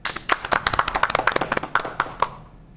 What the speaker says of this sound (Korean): 강의 박수로 청해 듣죠